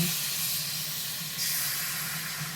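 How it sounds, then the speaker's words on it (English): Chicken in its marinade sears in a hot wok with a steady, loud hiss and steam that sweeps on without a break, rising briefly about halfway through; no voices. "I want to sear my chicken till it's done."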